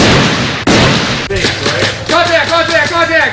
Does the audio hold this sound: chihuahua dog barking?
no